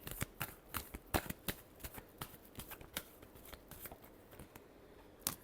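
A deck of tarot cards being shuffled by hand, a quick string of crisp riffling snaps and flicks, close and quiet, with no talking.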